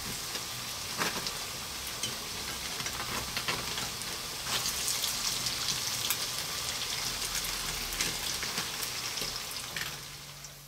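Egg-and-breadcrumb-coated potato balls stuffed with cheese and parsley sizzle steadily in hot oil after being turned over, a dense close crackle with small pops that fades slightly at the end.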